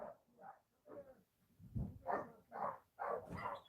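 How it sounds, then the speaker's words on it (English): Dogs bark in a run of repeated, fairly close barks with short gaps, several rapid woofs in succession, moderately loud with no talking over them. "They're just barking Papa."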